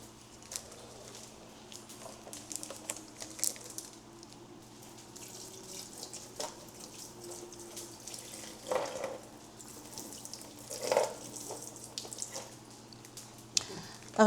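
Water from a tap splashing and pattering in a sink while red snapper fish is washed, a soft continuous trickle with scattered drips and louder splashes near the end, over a low steady hum.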